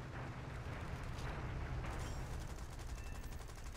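Aircraft guns firing at an enemy plane in a World War II-era air combat game: dense, continuous rattling bursts of gunfire over a constant engine roar, fairly faint overall.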